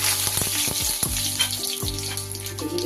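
A tempering of cumin seeds and bay leaf sizzles and crackles steadily in hot rice bran oil, with a few sharp pops over a dense, close frying hiss.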